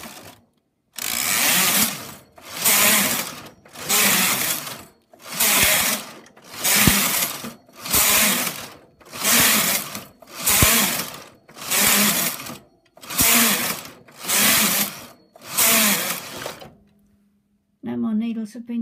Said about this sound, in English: Two knit rows and then continue with the lace carriage.